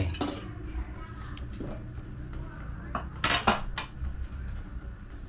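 Pork ribs going into a pot for a Thai pork rib glass noodle curry, with clattering pot and utensil clinks, a few sharp metallic knocks near the middle, over a steady low kitchen hum.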